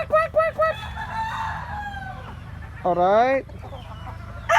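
Popeye Gray gamefowl rooster clucking in quick bursts, then letting out a clear, close crow midway through, with someone speaking briefly nearby.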